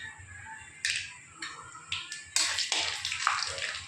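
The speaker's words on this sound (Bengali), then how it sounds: "ফোড়নে দিয়ে দেবো জিরা" Cumin seeds dropped into hot oil for tempering, giving sharp crackling sizzle bursts that start faint and grow denser and louder, close up with no talk.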